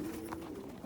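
Pigeons coo softly in a backyard loft on the day after a snow day, a low murmuring call carrying close and steady through the short moment, with no talk over it.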